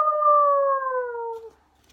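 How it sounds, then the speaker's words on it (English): A dog gives a single drawn-out whimpering whine that slides slowly downward in pitch for about a second and a half before trailing off, heard alone and fairly close. "Zippy whimpered, Zippy whined"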